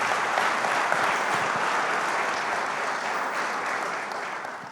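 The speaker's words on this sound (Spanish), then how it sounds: "Den un aplauso al Señor por la vida de Willington." A church congregation at a Spanish-language evening service applauds steadily and loudly throughout, a dense sustained wash of clapping from many hands that tapers slightly toward the end.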